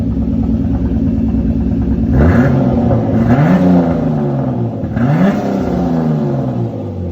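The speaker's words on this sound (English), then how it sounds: "Gonna give it a little rev." A Nissan Skyline R34 engine, freshly converted to turbo, idles steadily and is blipped twice, each rev rising sharply in pitch and then dropping back to idle; loud and close, with no talking.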